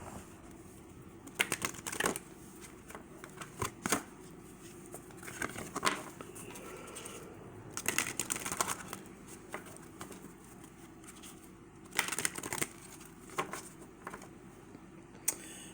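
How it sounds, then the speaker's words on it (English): Cards shuffled in several bursts of rapid riffling clatter, close by, separated by quieter pauses with light handling sounds. "so let's give this a shuffle"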